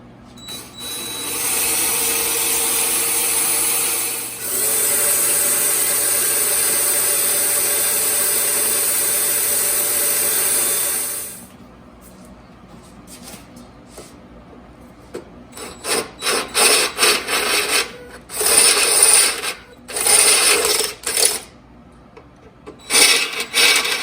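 A drill grinds steadily into cast iron, drilling a pilot hole, in two long, loud stretches, then stops and starts in short, choppy bursts.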